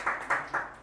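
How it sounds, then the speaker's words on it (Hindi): Students in a classroom clap together in three evenly spaced bursts, moderately loud and close. "सारे बच्चे ताली बजाएंगे शाम के लिए यार"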